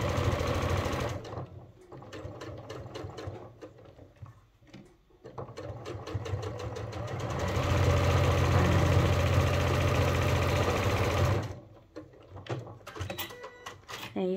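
A sewing machine backstitching a seam on an upcycled sling bag runs in a steady close whirring hum, stopping and restarting in short bursts before one long continuous run, then brief clicks and handling.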